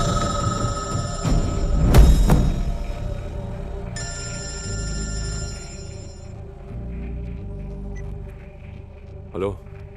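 A telephone rings in repeated electronic trills amid a busy scene with rumbling background sound, and speech can be heard during the ringing.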